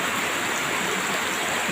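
Rain falling steadily in a late-afternoon shower, a dense continuous hiss of drops with no breaks, fairly close and even throughout.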